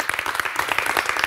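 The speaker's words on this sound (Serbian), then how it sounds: "veliki aplauz za njega." An audience breaks into loud, dense applause at a talk event, rapid overlapping claps filling a short, close burst.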